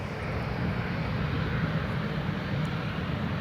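An Air France airliner roars through its takeoff at Newcastle International Airport as a broad, loud, sustained jet engine rumble that holds steady for the whole stretch.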